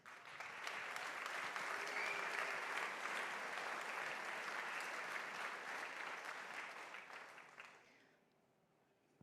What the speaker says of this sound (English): So I think that deserves a huge applause.